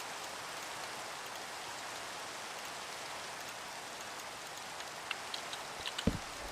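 Steady rain falls in a video game world, a continuous even hiss of drops with a few sharper taps near the end.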